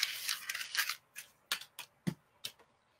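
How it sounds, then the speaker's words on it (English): Paper being crumpled by hand, a burst of dense crackling followed by several short separate crinkles and rustles, close and fairly quiet with no talk. "You just crumple it up and you fucking throw it away."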